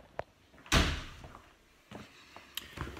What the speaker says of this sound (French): je ferme la porte parce qu'avec le bruit, les avions et tout